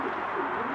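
Soft, steady cooing from a racing pigeon kept by a Polish pigeon breeder, a close, low, continuous warble with no other sounds.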